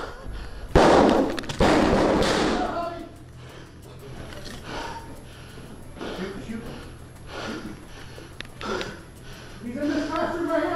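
A few sharp, loud gunshots near the start ring out inside a school building over a noisy background, followed by tense shouting voices that continue throughout.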